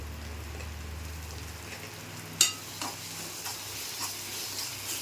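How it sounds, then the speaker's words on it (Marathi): Ginger garlic paste frying with soft tomato and onion in a pan, a quiet continuous sizzle with a sharp clink of a spoon, then light scattered stirring taps. "आता एक चमचा आला लसूण पेस्ट पण टाकून घेते"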